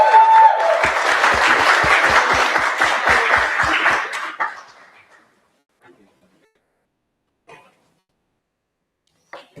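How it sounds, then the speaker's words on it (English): Conference audience clapping as a team is thanked on stage, a dense burst of applause for about four seconds that quickly fades to scattered claps and near silence. "can you please make a round of applause to my team?"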